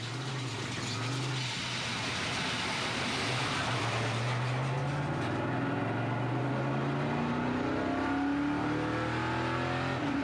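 NASCAR race cars roaring past at the Czech Grand Prix circuit, a dense, continuous engine drone with rising and falling pitch as cars accelerate and shift, loud and sustained for the whole stretch without speech.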